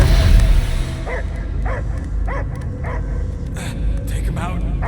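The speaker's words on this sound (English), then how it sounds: "I hear only barking." In the Guardians of the Galaxy video game, a dog lets out a string of short barks and yips, evenly spaced about half a second apart, over game ambience, with voices around it.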